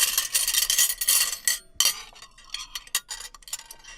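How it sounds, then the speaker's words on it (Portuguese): Plates and cutlery clink and clatter as a sound effect, with bright metallic chinks and scraping arriving in irregular bursts, moderately close, with no talking. "Pratos, talheres."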